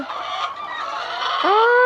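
A laying hen on a small egg farm clucks and squawks while being picked up and handled, giving close, loud, strained calls that rise in pitch near the end, with no talking.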